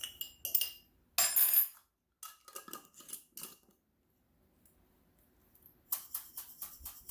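A spoon scrapes and clinks inside a jar while stirring dry pork chop seasoning. Close, metallic bursts come in irregular clusters separated by short silences.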